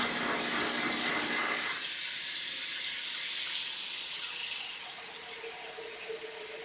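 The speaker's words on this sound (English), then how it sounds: "I'm going to fill it with water so I can go and get the water on the boil for the pasta." Tap water runs steadily into a cooking pot for pasta, a close, loud rushing hiss that lasts several seconds, then softens and its pitch shifts as the pot fills.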